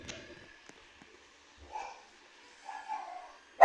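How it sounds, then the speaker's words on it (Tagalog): A dog gives a few short, fairly faint barks and yips at a distance, separated by quiet gaps, ending with a sharper sound. "tumatahol na yung aso natin"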